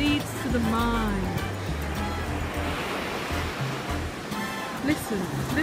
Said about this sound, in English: Listen, listen to the ocean